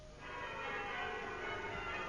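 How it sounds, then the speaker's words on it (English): Church bells ring out in peals, a sustained wash of bright overlapping tolling that swells early and then holds at moderate distance, with no voices over it. "The churches rang out the lustiest peals he'd ever heard."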